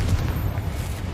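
A Confringo blasting spell in Hogwarts Legacy erupts as a loud, low, rumbling boom that fills the whole short moment without a break.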